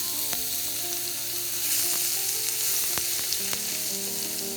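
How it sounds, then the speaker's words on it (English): Ginger and vegetables sautéing in a pan, a steady loud sizzle with occasional sharp ticks from stirring, continuous throughout with no talking. "we're going to use the same pan to saute our spices and vegetables"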